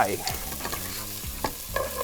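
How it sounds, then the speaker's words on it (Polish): Onion sizzles steadily in a hot pan over fairly high flame, close up, with scraping stirs now and then. "Cebula się smaży"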